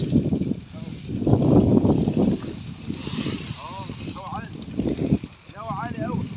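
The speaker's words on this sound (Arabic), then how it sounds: "الهوا عالي قوي،" Strong wind buffeting the microphone in an open farm field beside irrigation land in Egypt, a continuous loud roar with gusts, while someone talks over it.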